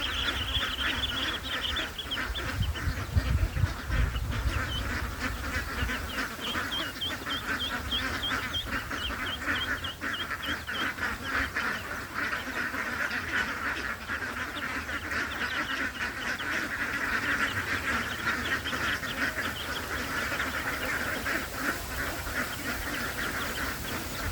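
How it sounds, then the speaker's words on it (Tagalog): A flock of ducks, small and large, feed together, with a dense, continuous chorus of quacking and chattering calls plus a steady buzzing hum, moderately loud and unbroken throughout. "magpakain ng mga itik ko"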